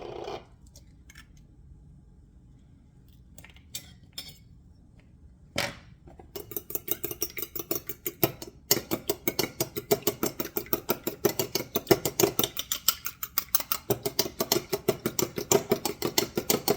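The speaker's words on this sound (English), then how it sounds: "We have to beat this egg" A utensil beats an egg in a bowl with a fast, steady run of light rhythmic clicking that starts after a few isolated taps and continues briskly to the end, close and alone.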